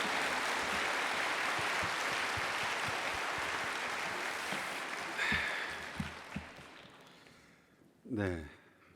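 A church congregation at a Sunday worship service claps loudly and steadily to welcome the pastor. The applause gradually fades out, and a voice comes in briefly at the end.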